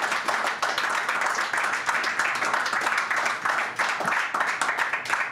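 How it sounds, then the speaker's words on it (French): A live podcast audience in a hall applauds steadily for several seconds, dense continuous clapping with a few louder claps and faint voices mixed in. "on peut l'applaudir encore une fois le Hard Rock"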